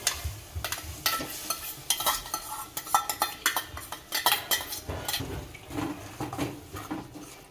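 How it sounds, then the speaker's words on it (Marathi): A spoon stirs cooked spring onion greens into oily masala paste in a pan, with repeated scraping and clinking against the metal over a light sizzle, close and steady without speech. "आता ही व्यवस्थित मिक्स करून पुन्हा एकदा शिजायला ठेवू।"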